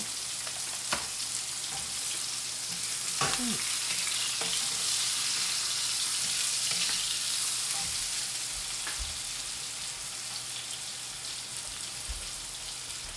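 Cumin seeds fry in a pan, a steady soft crackling sizzle like light rain, with occasional small pops and a few faint clicks throughout.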